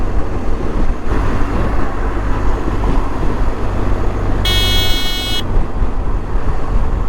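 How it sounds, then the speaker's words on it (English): Dense road traffic on a busy flyover heading to an airport, with a steady loud roar of many vehicles throughout and a brief bright car horn toot partway through. "There's no jam, but just too many vehicles around."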